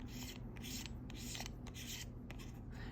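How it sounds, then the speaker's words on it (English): A metal lens hood is screwed onto a Fujifilm XF27mm R WR lens, a quiet, close scratchy rasping in repeated short turns over about three seconds. "Metal lens hood, which screws in."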